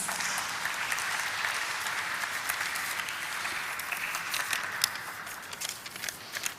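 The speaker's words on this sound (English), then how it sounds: "Please give him a huge round of applause." An audience at a stock exchange listing ceremony for Signatureglobal India applauds a speaker called to the stage, sustained dense clapping that holds evenly for several seconds before thinning slightly.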